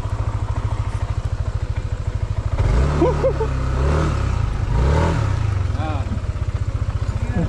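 A motorcycle engine idles with a steady rapid thrum, then revs up briefly before settling back to idle, close by, while people talk over it on the road to a waterfall in Pakil, Laguna.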